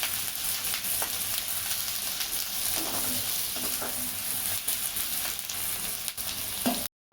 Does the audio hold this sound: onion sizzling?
yes